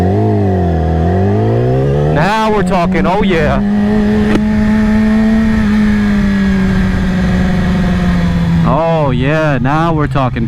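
A 2020 Yamaha R6 fitted with a LeoVince Factory S exhaust revs hard and loud up close, its engine note rising and falling in sharp bursts over a steady high idle, while someone talks excitedly throughout.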